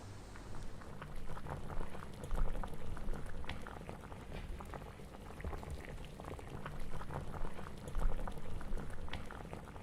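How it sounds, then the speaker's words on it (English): Sindhi tomato kadhi curry with potato and tamarind simmers on a low flame in a pot, giving a steady close bubbling and popping that carries on throughout with no voices. "Allow this to simmer on low flame for at least 15 to 20 minutes"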